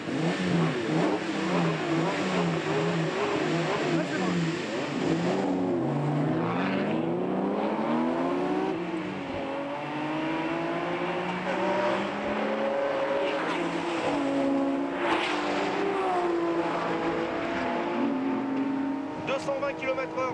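A 1972 Ferrari 365 GTB4 Daytona engine revs and accelerates loudly through rising and falling gear sweeps, sustained at close range with a voice talking over it.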